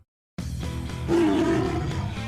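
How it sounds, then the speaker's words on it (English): A tiger in a beer advert for Blind Tiger brewing gives a loud, close, rumbling growl that holds steady, then swells louder and rougher, with no talking over it. "That growl means passion in your glass"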